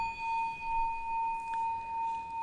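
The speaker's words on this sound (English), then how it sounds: "bell sound" A bell rung to open a Buddhist sutra lecture sustains a clear, steady ringing tone that lingers evenly throughout, close and alone without speech.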